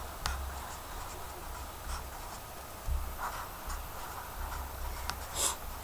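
Marker or chalk scratching numbers onto a classroom board during a math lesson on adding decimals, with a few short, scattered strokes and taps at moderate distance and no talking.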